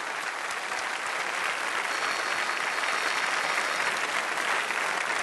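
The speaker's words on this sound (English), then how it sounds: "Allez, un gros effort d'applaudissement pour tous ces jeunes." An audience applauds the young pastry chefs at the 2013 Coupe du Monde de la Pâtisserie, a dense, steady wash of clapping from a large crowd that is loud throughout.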